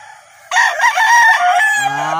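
A fighting rooster in a backyard gives one loud, close crow that starts abruptly and stretches into a drawn-out tail, heard alone without talk.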